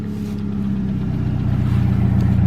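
A vehicle engine idling down after a cold start, a steady low rumble near the microphone that grows slightly louder and rougher over a couple of seconds, heard alone without talking.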